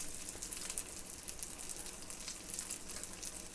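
Ruffed grouse (partridge) meat, flattened thin, frying over high heat in a pan, giving a steady, close, continuous sizzle with soft crackle and no talk.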